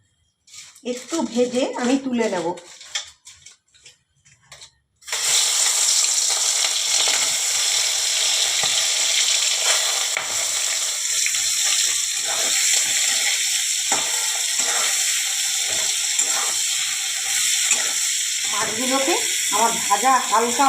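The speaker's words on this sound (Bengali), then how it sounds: "আমি এই যে সর্ষের তেল দিয়ে দিয়েছি আমি এখন মাছগুলো ভেজে নেবো" Prawns frying in hot mustard oil for a Bengali daab chingri dish, a loud steady sizzle that bursts in after a short stretch of talk and keeps going, with voices speaking over it near the end.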